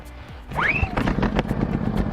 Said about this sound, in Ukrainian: за допомогою ручного стартера заводимо генератор